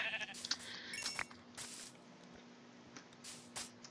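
Several short sheep bleats ring out near and fairly loud, spaced unevenly over a quiet background with soft ambient hiss.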